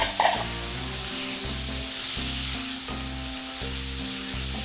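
Gator meat sizzling loudly in a pan with added tomatoes and green beans, a steady close frying hiss with brief clatter and stirring at the start.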